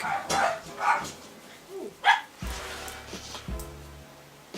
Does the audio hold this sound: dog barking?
yes